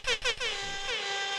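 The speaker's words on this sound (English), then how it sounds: "Give an air horn." An air horn blasts two short bursts followed by one longer sustained blare, loud and brassy with nothing else around it.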